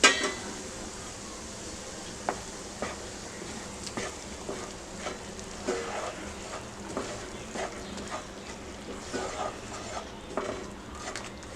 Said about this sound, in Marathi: मंद आचेवरती आपण हे पीठ परतून घेऊया.